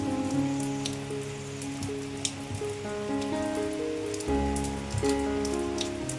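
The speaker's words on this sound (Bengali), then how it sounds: "বেশ অনেকক্ষণ থেকে বৃষ্টি পড়ছে গো" Steady rain patters on a surface, with scattered drops tapping and a low hum of background tones running underneath.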